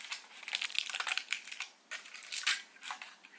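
Snack wrapper from a Thai convenience store crinkling and tearing open, close and crisp bursts of crackling plastic in irregular rhythm with a brief pause midway, no talking.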